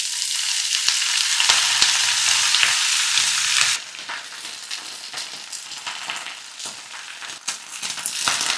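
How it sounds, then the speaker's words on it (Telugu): Moringa leaves hit hot oil in a pan with a loud, bright sizzle that settles after a few seconds into a quieter crackling fry with intermittent stirring. "ఇప్పుడు ఇందులో మునగాకును వేసి వేయించుకుందాం."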